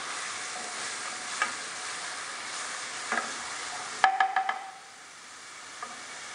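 Minced meat and onion fry in a little oil in a pan, a steady close sizzle throughout with a few sharp clinks of a spoon stirring and scraping, the hiss easing toward the end.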